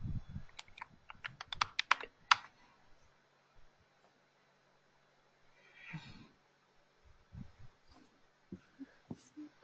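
Password typed on a computer keyboard, a quick run of close, crisp keystrokes followed by quieter scattered taps and clicks after a short pause, with no voice over the keys.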